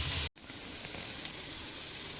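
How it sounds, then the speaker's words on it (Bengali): Onions sauté in a frying pan, being lightly browned: a steady, close, hissing sizzle that continues evenly after a brief cut at the start, with no talking. "এবার পেঁয়াজটাকে বেশ ভালো করে সটে করতে হবে, হালকা হালকা ব্রাউন ফ্রাই হবে"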